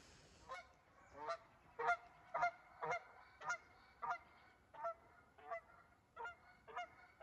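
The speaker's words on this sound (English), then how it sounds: "Couple Canada geese flying by." A couple of Canada geese fly past over low-lying land near water, giving a regular series of about a dozen distant honks, evenly spaced and fairly faint, with no talking.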